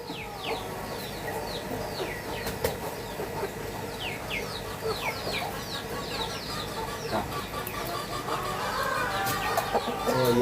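Chickens clucking near a freshly stocked catfish pond, repeated short clucks from several birds scattered over a constant outdoor background, fairly close and moderately loud, with no talk.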